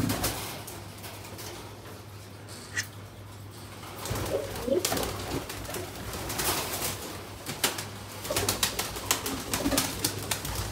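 Pigeons in a loft coo softly and repeatedly at close range, with a low steady hum underneath and occasional sharp clicks and rustles.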